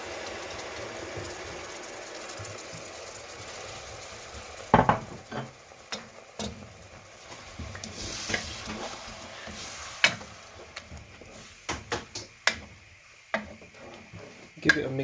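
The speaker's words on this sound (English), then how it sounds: "Give it a mix until it's well combined" Tomato puree gets stirred into chicken curry, a quiet simmering hiss punctuated by a series of spoon-on-pan scrapes and knocks.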